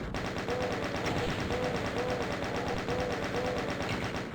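Rapid sustained automatic fire from a chaingunner in the video game DOOM, a dense unbroken rattle of shots pounding steadily and loud throughout, with no talking.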